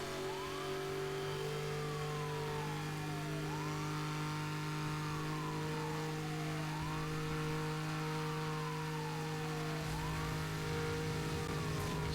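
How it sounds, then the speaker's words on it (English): Racing cars in Need for Speed Hot Pursuit rev and roar steadily, engine pitch climbing and dropping in repeated gear-shift sweeps over a constant mechanical drone, with no talk. "sound effects of the cars are great, aren't they?"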